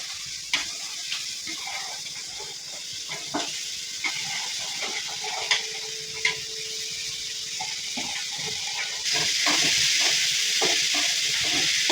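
Naal bhaji, a vegetable dish with hing, frying in a pan, a steady sizzle with intermittent stirring scrapes and clinks, growing hotter and louder toward the end.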